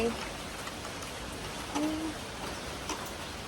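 Rain falls steadily in hot weather, a continuous broadband hiss with a few faint tonal calls and brief bumps over it.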